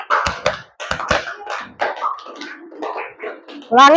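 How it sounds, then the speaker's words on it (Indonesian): Sharp claps in pairs ring out between stretches of someone speaking, close and loud. "Tepuk dua kali. Dua kali, halo. Tepuk dua."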